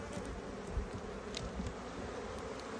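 Honey bees swarm over a heavy frame lifted from a hive during a beekeeping inspection, a steady close buzzing hum with a few louder passes near the ear.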